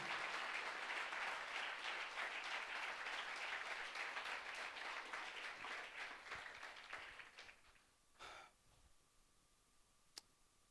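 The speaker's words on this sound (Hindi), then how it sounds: "आइए हम प्रभु के लिए एक अच्छी ताली बजाएंगे सब मिलकर।" A church congregation claps together for the Lord, loud sustained applause for several seconds that thins out and fades to a few scattered claps and clicks.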